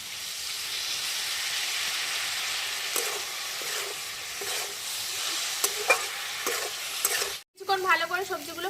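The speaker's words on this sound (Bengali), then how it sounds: "এটাকে একটু ভালো করে ভাজা ভাজা মতো করে নেবো" Chilli chicken sauce fries in a pan while being stirred, producing a continuous close sizzle with repeated scraping strokes. A short silence falls near the end before sharper clattering resumes.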